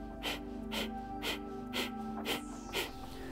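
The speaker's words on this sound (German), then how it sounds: "Und dann atmet ihr durch die Nase." Forceful rhythmic breathing through the nose during a breathing exercise: six sharp, noisy breaths about every half second, close and loud over a steady humming background.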